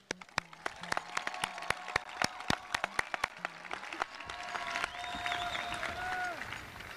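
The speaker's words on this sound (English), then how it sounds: "let's get a big round of applause to congratulate the most attractive class" Scattered claps ring out in a high school 2023 commencement crowd, first isolated and sharp, then thickening into a fuller wash of applause while voices carry through it.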